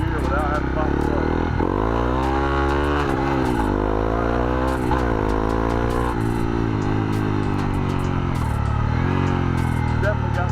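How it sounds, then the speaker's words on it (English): A Honda CRF250L motorcycle with a Dobeck EJK fuel programmer accelerates hard in first gear, its engine note rising in repeated sweeps, loud and close throughout. "bike will lift up in first gear without having to pop the clutch."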